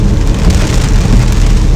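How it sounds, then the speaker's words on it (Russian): Steady rain falling as a loud, dense hiss and patter, close up and continuous with no voices. "Конечно же, пошел дождик."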